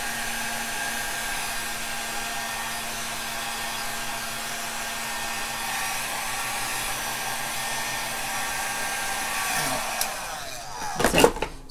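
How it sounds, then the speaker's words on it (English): A hair dryer blows on resin art with a steady, close whirring roar that runs continuously, then bumps and clatters briefly as it is moved near the end. "now I'm just going to take a blow dryer and just move it around just a little bit."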